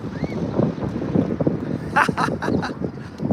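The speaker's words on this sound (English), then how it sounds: "The wind is attacking me." Strong gusts of wind buffet the microphone outdoors during a dog walk on a very windy day, a constant roaring rumble with a person talking over it.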